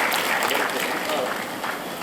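Audience at an academy study-hall inauguration ceremony in Maharashtra applauding to welcome a guest, a dense sustained clatter of many hands, steady and fairly loud, with voices blended underneath.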